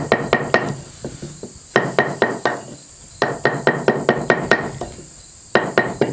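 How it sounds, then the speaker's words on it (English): An axe is used as a chisel on wood, giving bursts of quick sharp taps, four to six blows per group with short pauses between them, close and fairly loud, with no talk. "Like using your axe as a chisel."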